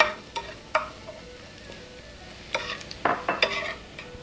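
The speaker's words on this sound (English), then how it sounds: "So now we cook it until it starts to smell the spiciness." Chili peppers stir-fried in a pan, Tianjin-style Chinese cooking, with a soft steady sizzle and scattered scrapes and clinks of a utensil against the pan, busier toward the end, no talking.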